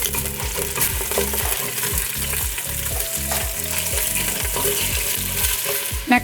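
Italian sausage meat, casing removed, fries in a pot for lasagna soup, a loud steady sizzle broken by rhythmic scraping strokes of a spoon breaking it up, close and alone.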